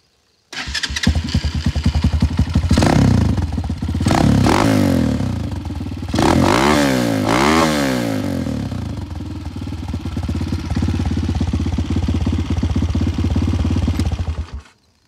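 A Tbr7 dual sport motorcycle engine cranks and catches, revving a couple of times before settling into a loud, steady, rattling idle close by.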